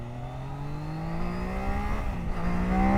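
A 2025 Triumph Daytona 660 accelerating at full throttle, its engine note rising steadily in pitch and growing louder, heard up close with no talking.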